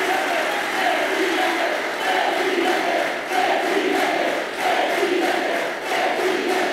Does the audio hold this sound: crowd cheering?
yes